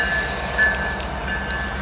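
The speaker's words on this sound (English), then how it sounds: "I can hear the locomotive bell." A CN mixed freight locomotive bell rings at the Harrison Avenue railroad crossing in Trenton, Michigan: a thin, steady metallic tone that comes and goes over a continuous low rumble of the passing train.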